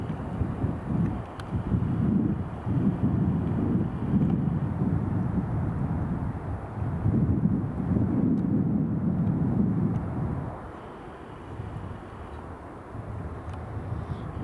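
An EasyJet airliner passes at Edinburgh Airport, a broad low rumble that swells and fades over several seconds, mixed with wind buffeting on the microphone.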